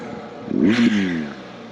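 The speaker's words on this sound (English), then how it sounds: "Let's give it a little engine rev." A motorcycle engine revs once, its pitch climbing then dropping back to idle, over rushing wind noise.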